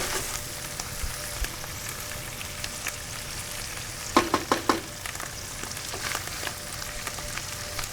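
Tomato sauce sizzling in hot oil in a pan with onions, jalapenos and pepperoni, a soft continuous fry hiss with a quick cluster of utensil taps midway.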